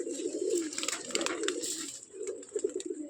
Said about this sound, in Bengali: এখন বাজি দেখবো কবুতর জোড়া